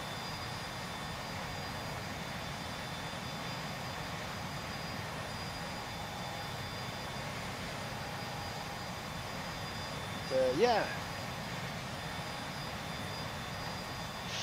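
Steady jet engine drone of a Cirrus SF50 in X-Plane 11 with the FT Sim Plus sound pack, a constant cockpit hum and whine, with a brief voice partway through.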